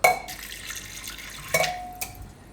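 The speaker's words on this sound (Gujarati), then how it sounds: "આમાં આપણે પાણી નાખી દેવું થોડુંક" Water is added to soaked desi chickpeas in a kitchen pot, with a sharp splash at the start and a few brief splashes and drips later, faint and close, with no talking.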